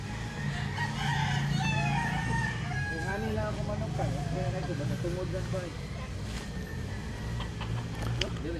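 A rooster crows outside a village house, a drawn-out cock-a-doodle-doo with wavering calls, while people talk nearby over steady background noise.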